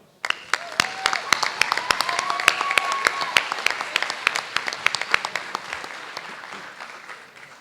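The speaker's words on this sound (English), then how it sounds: "Another round of applause." Modest applause from a school board meeting audience, distinct individual claps forming a sparse, rhythmic patter near the microphone, with faint voices underneath, building quickly then thinning out and stopping.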